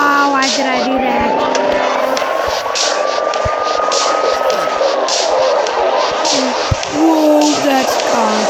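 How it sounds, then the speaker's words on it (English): Car engine whine and tire squeal from a video game car chase sim, a rising then falling motor tone with skidding, loud, with a voice talking over it. "Whoa, that's a car. That's a car."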